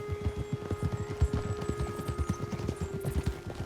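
Horse hooves clip-clopping steadily in Red Dead Redemption 2, a rapid run of close, distinct thuds over a faint low hum.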